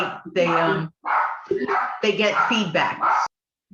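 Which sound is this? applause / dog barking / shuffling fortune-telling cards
dog barking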